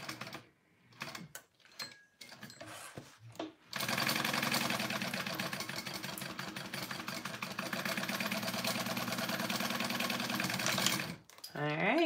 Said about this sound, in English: I go along the same line and just give it that double stitch, double reinforcement.